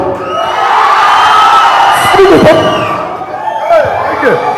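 A college student audience cheers, whoops and shouts loudly throughout at a film event for the movie Accused, with a voice talking over the crowd noise.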